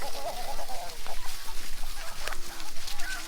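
Chickens clucking softly in a backyard garden near a spot planned for a window greenhouse, scattered close calls amid outdoor ambience and faint voices.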